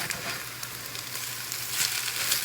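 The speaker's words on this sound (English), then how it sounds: "So we're just going to let it sit for a little bit and fry." Tortillas fry in a pan of oil for red chilaquiles, giving a steady, even sizzle with faint crackles and pops on top. The sound runs without a break, close and moderately loud, with no talk.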